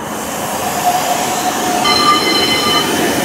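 A Birmingham tram without batteries rolls steadily past on the street, a close, loud rumble with thin, sustained wheel squeal tones toward the end.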